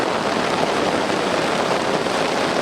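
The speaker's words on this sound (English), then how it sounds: "Don't know if you can hear the thunder above the rain on the bivvy" Rain pelts a bivvy shelter in a thunderstorm beside a fishing lake, a loud, even, close wash of droplets filling the whole moment without a break.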